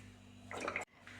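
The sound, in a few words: pouring oil into a wok for frying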